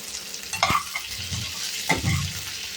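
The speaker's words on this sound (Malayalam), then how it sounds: "എല്ലാം ഇട്ടിട്ട് നന്നായിട്ട് വഴറ്റിയെടുക്കണം" Vegetables for sambar sautéing in a hot pan, a steady close sizzle broken by two sharp scraping stirs of a spoon against the metal, with no talk.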